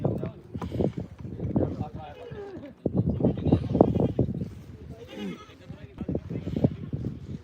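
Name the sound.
goats bleating at a goat market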